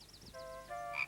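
A frog croaks in a children's story about a mole learning to dance, a short close call with repeated pulsing notes, alone and without talk.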